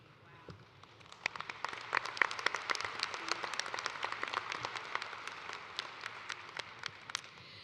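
Audience applause at a spring college of nursing convocation ceremony, a dense field of many hands clapping that swells after a second and holds steady, moderately distant and broad, with no talking over it.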